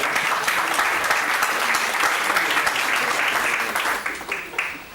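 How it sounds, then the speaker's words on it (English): A workshop audience gives a sustained round of applause, dense steady clapping that holds for about four seconds and then tapers off with a few scattered claps near the end. "A round of applause."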